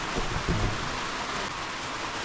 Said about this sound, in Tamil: இதான் நம்ம வந்த நேரம் மழை வந்திருக்கு.